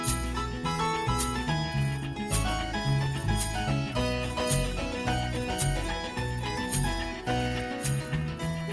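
Electric folk-rock arrangement of the song Leaves That Are Green, with steady strummed guitars, bass and drums playing continuously at full level, no vocals in this stretch.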